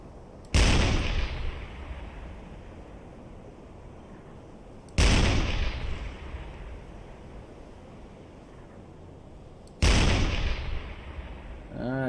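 Three loud, booming naval gun blasts from a U-boat deck gun firing armour-piercing rounds at a ship in the submarine game UBOAT, each spaced about five seconds apart with a long rumbling decay over a steady sea wash.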